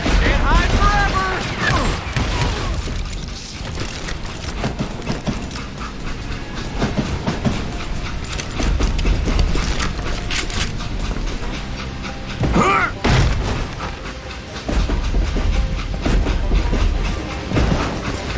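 A moving train in the video game Call of Juarez: Gunslinger rumbles and rattles continuously with metallic clanks, while gunfire-like bursts and shouting voices break in over the noise.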